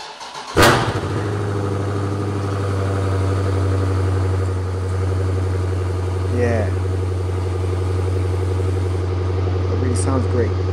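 A 2017 Dodge Challenger 392 Hemi Scat Pack with a 6.4-liter V8 fires up with a sharp bark, then settles into a loud, steady, rumbling idle that holds close and even to the end.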